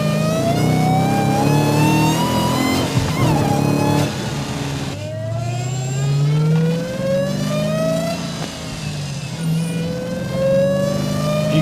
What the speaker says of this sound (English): I like the supercharger whine